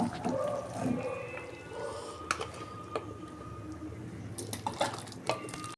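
Cooked mango chutney, slightly watery, is poured from a pot into a serving dish at home, with soft liquid sloshing, scattered clinks of utensil against metal and glass, and a few sharper taps near the end, close and fairly quiet.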